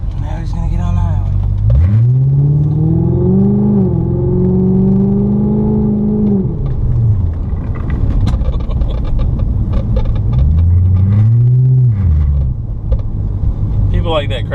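A loud car engine revs and accelerates close by as the car gets onto a highway, its pitch climbing, dropping away, then surging again in a second burst.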